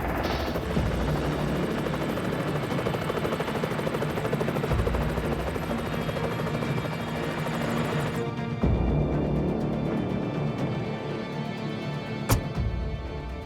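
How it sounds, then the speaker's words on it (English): Helicopter rotors thump and roar continuously, a loud, steady drone that grows and shifts as the aircraft nears, with a sharp click near the end. "I hear the helicopters coming."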